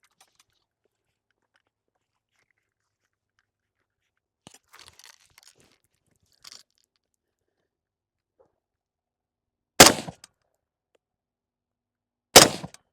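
A Norinco SKS rifle fires at 50 yards with iron sights: two sharp, loud shots about two and a half seconds apart. Near silence and a few faint rustles come before them.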